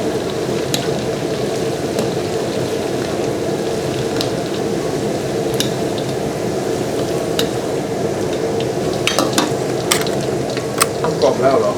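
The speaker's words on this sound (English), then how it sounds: "we fry shallot. Make until this one crispy" Shallots deep frying in hot oil until crispy for Thai son-in-law eggs, a steady dense bubbling sizzle with scattered sharp crackles and pops, loud and continuous throughout with no talking.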